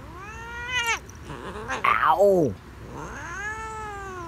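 A house cat hisses and yowls in long, rising and falling cries with a harsh burst in the middle, close and fairly loud; a person briefly exclaims.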